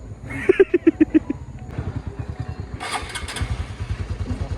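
A motorcycle engine sputters to life with a few sharp pops, then settles into a rapid, steady idle close by.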